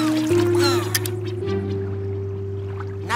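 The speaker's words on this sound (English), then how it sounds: "Oh no, that gull is hurt." A cartoon gull, hurt and calling, gives a few squawking cries over a steady hum of background music, with no talk in the clip.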